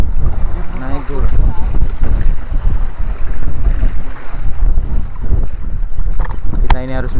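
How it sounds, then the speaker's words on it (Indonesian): Rough sea in the Bali Strait, with waves and gusting wind battering the microphone on a rocking fishing boat, a loud continuous roar with bursts of speech throughout. "Ini ombaknya lihat."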